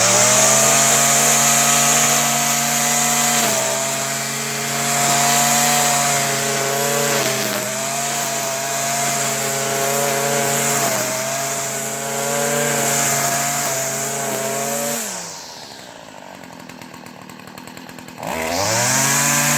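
A Stihl FS70 string trimmer engine runs steadily at high revs after its clogged muffler screen is removed, loud and close with a bright two-stroke whine, briefly dropping toward idle near the end before revving back up.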